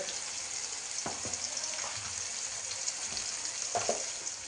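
Tomatoes and a pinch of turmeric sizzle quietly in oil in a pan for okra bhaji, a soft, steady hiss broken by occasional scrapes of a stirring spoon.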